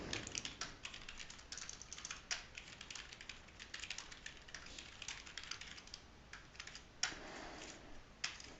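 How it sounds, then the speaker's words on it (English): Quiet, rapid clicking of a computer keyboard as C++ code is typed, irregular bursts of keystrokes with occasional louder key hits, close and without voices. "I'm going to type the exact program that I had before."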